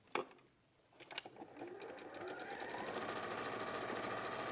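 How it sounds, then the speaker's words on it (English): A sewing machine stitches a fabric strip onto a quilt block, with a few sharp clicks first, then the motor ramps up into a steady, close, whirring run with no talking. "And I'm going to sew this one on."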